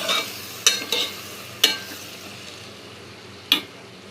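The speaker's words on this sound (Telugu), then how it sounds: "ఉడికించిన చిక్కుడుగాయలు వేసేసుకుందాం ఇవి కలిపేసుకొని కారం కూడా వేసేసుకుందామండి" Boiled broad beans and tomato curry stirred in a pan, a soft steady sizzle with a few sharp scrapes of a spoon against the metal at irregular intervals, close and alone without speech.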